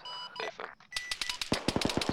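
Video game .50 caliber machine gun firing in a rapid burst of sharp, evenly spaced shots after a few scattered earlier sounds, moderately loud and fairly close.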